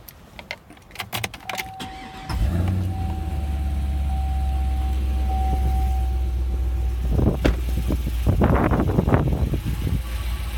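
A 2004 Cadillac CTS-V starts up after a few faint clicks and settles into a steady, deep engine idle up close, with a slight rise in revs and some rattling near the end.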